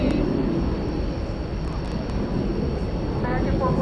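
A plane at DFW airport at night gives off a steady, loud engine rumble and roar that holds evenly throughout, with faint higher whines drifting over it.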